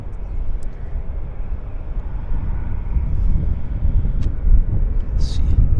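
A Lufthansa jet airliner at Vancouver International Airport gives off a steady, broad engine roar that swells slightly, with wind buffeting the microphone.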